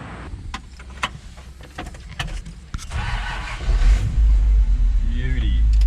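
A Ford F350 with a 302 Cleveland engine starts and climbs to a raised idle, rumbling louder and steadier near the end, after clicks and clunks and some nearby talk.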